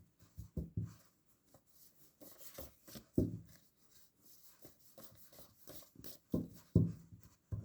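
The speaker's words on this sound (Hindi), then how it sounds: "final shuffle" Tarot cards are shuffled close up in soft, irregular bursts of riffling and rubbing, quiet and without talk.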